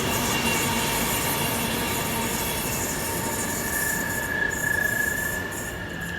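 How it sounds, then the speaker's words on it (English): A Class 390 electric passenger train on the West Coast Main Line passes at speed, giving a steady, broad rushing roar with faint high wheel squeal throughout. "The Class 390 passes."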